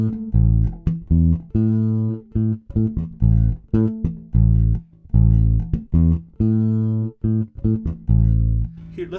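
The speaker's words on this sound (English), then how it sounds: "I'm going to start using those little muted notes so it sounds like this" A bass guitar plays short muted notes in a Motown-style rhythm. Clipped, punchy low plucks come in uneven groups with brief gaps between them, close and clear, with no talking.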